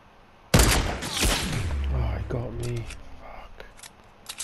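A sharp, loud gunshot cracks out in the Fortnite video game for a headshot, followed by a ringing decay and a few quieter clicks and taps afterward.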